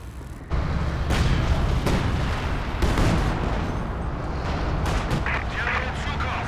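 An artillery barrage in the war game Company of Heroes 2 rolls on as continuous loud booms and blasts with rumbling low end, while voices speak over the bombardment.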